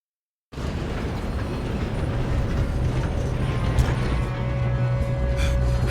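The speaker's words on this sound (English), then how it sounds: "We have to stop this train." A steam train runs along the tracks in the Red Dead Redemption 2 video game, a steady loud rumbling chug with rattling cars that continues without a break for several seconds, with no voices over it.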